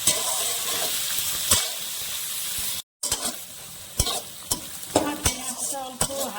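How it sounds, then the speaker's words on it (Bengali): Onions sizzle in a kadai as they fry light red for a mutton kasha curry, with loud steady frying broken by sharp scraping stirs and a brief cut to silence midway. "পেঁয়াজটা অল্প হালকা লাল করে ভাজা হয়ে গেছে"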